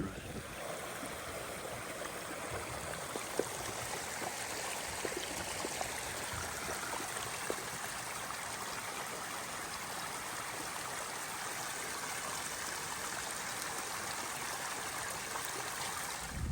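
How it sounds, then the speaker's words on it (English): Water pours steadily through a dam spillway on a wet mountainside, a dense continuous rushing roar that stays even and unbroken throughout, with no voices. "spillway coming off the dam has a pretty good bit of water running through it"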